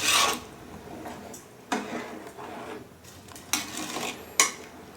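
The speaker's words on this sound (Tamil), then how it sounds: "சேர்த்து நல்லா கிளறி விடுங்க." Spoon scrapes and rasps against a cooking pot as rice is stirred into coconut milk for coconut milk rice. The stirring comes in a few quiet, close strokes with soft pauses between them.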